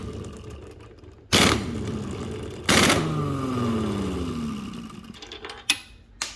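Impact wrench blasting an alternator pulley onto a 2018 Dodge Durango SXT 3.6L Pentastar V6, two loud close bursts followed by fading whirring rundown and a few faint clicks at the end.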